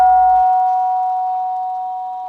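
A monastery gong at a meditation centre calling monks to breakfast, one clear struck tone that rings on and slowly fades, loud and alone.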